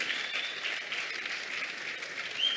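A church congregation claps together, a dense, even patter of many hands that holds steady from start to finish with no voices standing out.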